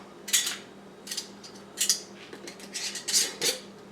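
Metal screw bands clink and scrape as they go onto glass canning jars packed with raw venison for pressure canning, six or seven short bright metallic bursts spaced irregularly over a faint steady hum, close by with no talking.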